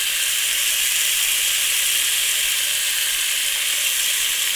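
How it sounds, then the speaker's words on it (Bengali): Potatoes already fried in a pan sizzle steadily as turmeric goes in, a loud, even, close hiss with no pauses or voices. "আলু ভাজা হয়ে গেছে, এবার হলুদ দিয়ে দেবো।"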